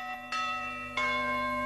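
Church bells ring from small village belfries, two clear strikes a moment apart, each leaving a bright, sustained metallic hum that overlaps the next, moderately loud with no voices.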